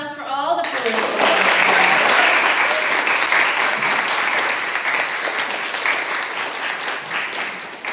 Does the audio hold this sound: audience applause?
yes